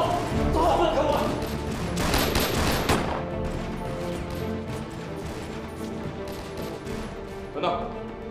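Rapid bursts of gunfire ring out in a film shootout inside a city concession, loud and dense at first and continuing in steady volleys with a final burst near the end.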